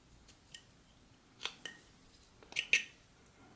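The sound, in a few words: whittling knife removing wood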